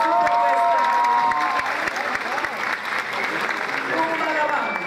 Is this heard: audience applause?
yes